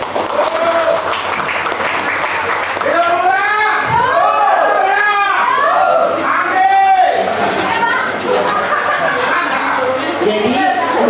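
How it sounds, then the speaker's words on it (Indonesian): A room of villagers at a planning meeting breaks into loud, sustained clapping mixed with cheers and shouts, crowd voices rising and falling throughout. "Tepuk tangan untuk Ibu Ayu."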